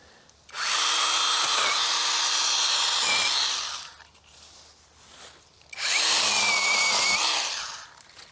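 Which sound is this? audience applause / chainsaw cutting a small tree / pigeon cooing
chainsaw cutting a small tree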